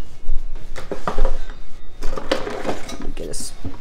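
A spoon scrapes and knocks around a full pot of leftover Thanksgiving turkey soup with mushrooms and peas, loud close clinks and metallic scrapes coming in quick irregular bursts.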